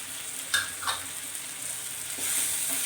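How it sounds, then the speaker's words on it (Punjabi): Onion, tomato and capsicum stir-fried in a pan with salt, turmeric, coriander powder, cumin powder, red chili powder and garam masala: a soft, steady sizzle broken by a couple of quick spatula stirs, then the hiss rises slightly. "ਮਸਾਲੇ ਪਾ ਕੇ ਆਪਾਂ ਇਹਨਾਂ ਨੂੰ ਚੰਗੀ ਤਰ੍ਹਾਂ ਮਿਕਸ ਕਰਕੇ 1 ਮਿੰਟ ਵਾਸਤੇ ਭੁੰਨ ਲਵਾਂਗੇ"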